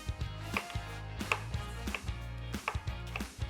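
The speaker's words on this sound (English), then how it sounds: "I'm just going to cut these into thin rings" A knife slices bell peppers into thin rings on a cutting board, giving a steady series of crisp, close chopping thuds, roughly one every half second, with no voices.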